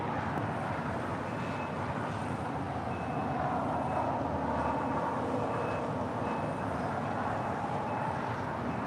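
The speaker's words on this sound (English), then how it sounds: "Spirit Airlines Flight 2698 coming in from Las Vegas in this A320neo." A Spirit Airlines Airbus A320neo airliner arrives at LAX from Las Vegas, giving a steady, broad jet roar that holds evenly throughout with no talk.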